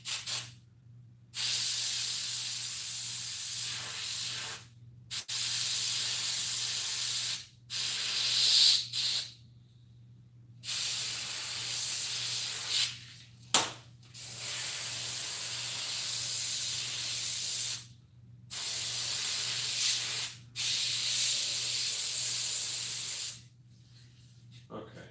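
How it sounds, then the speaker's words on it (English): An airbrush sprays paint onto a Krampus mask in bursts, each a loud steady hiss lasting a few seconds and broken by short silences, close up, with a low hum underneath. "So this airbrush changing colors takes a little bit of time,"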